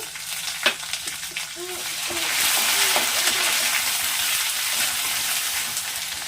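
Ginger garlic paste fries with browned onions in a pan, a loud, close, steady sizzle, with a few scraping stirs early on and no talk.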